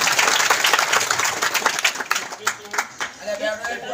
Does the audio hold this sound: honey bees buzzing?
no